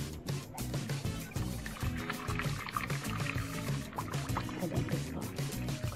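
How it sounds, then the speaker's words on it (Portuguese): Boiling water poured into a baking tray to make a water bath for a meringue pudding, a steady close splashing pour that continues throughout with a few clinks and knocks. "Colocando a água aqui, ó."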